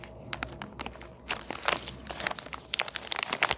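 Lego Minifigures Series 3 plastic pack being wrestled open up close, with dense crinkling and crackling of thin foil plastic in irregular bursts that grow busier toward the end.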